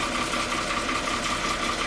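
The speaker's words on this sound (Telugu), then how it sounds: "ఇంజన్ సౌండ్ అయితే ఎలా ఉందో కామెంట్ చేసి అయితే చెప్పండి ఫ్రెండ్స్" An engine idles steadily after a tappet adjustment at a mechanic's workshop in Vijayawada AutoNagar, its even running sound close by and carrying a light rhythmic ticking with no voices over it.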